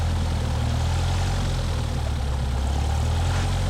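A propeller airplane's engine drones loud and constant during landing practice near birds, a heavy, unbroken roar with deep throbbing low tones that fills the whole stretch.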